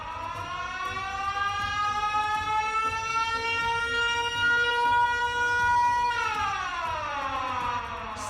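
Rising, wailing siren for the cartoon character Siren Head, a steady, layered tone that holds loud for several seconds, then bends downward near the end.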